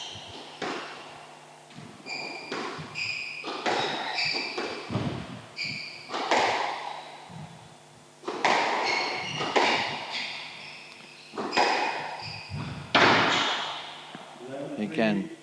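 A squash ball is struck in a rally of drive and drop shots at a match, with sharp thuds off racket and walls, shoe squeaks and a commentator speaking throughout.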